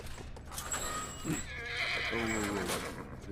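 A horse neighs in The Last of Us, a loud, close whinny with a rising then falling trill over steady game ambience.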